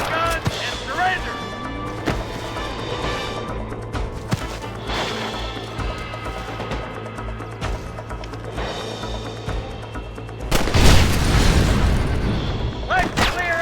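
Gunfire in a Red Dead Redemption shootout: scattered booming shots under raised in-game voices, ending in a loud, heavy blast near the close.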